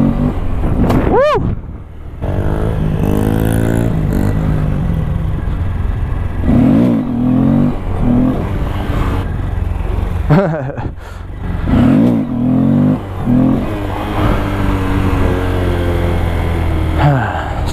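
A motorcycle engine revs hard again and again during wheelie practice. The throttle rises and falls in loud, close surges, with steady wind rush and road noise underneath.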